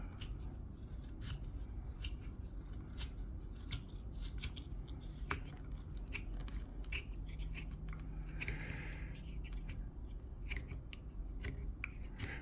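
Knife cutting away wood while carving an open book, a steady run of short scraping, snipping cuts repeating close up with no voice.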